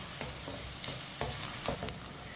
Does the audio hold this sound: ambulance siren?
no